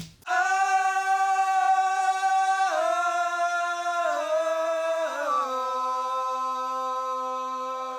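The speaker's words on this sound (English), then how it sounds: "what you're hearing here is 4 grown men attempting to sing at the top of their lungs" Four men sing gang vocals together loudly in unison at the top of their lungs, a sustained shouted chorus holding long notes with a few pitch changes, no instruments.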